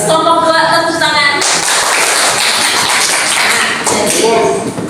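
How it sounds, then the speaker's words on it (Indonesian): A classroom of students claps together in a dense burst of applause that follows a teacher's voice and fades toward the end, with some speech mixed in. "Nah, bagus kelompok 2, tepuk tangan."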